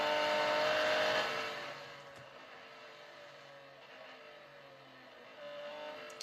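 Lamborghini Centenario engine in the Real Racing 3 racing game, revving loudly near 8500 rpm then dropping off after a shift into a lower steady drone, with a brief rise again at the end.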